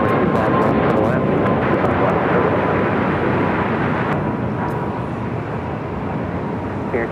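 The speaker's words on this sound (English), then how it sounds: "A319 heading our direction." A Legion Air A319 airliner at LAX roars with a loud, broad jet engine rush that holds steady and eases slightly over several seconds, with brief radio chatter bursts.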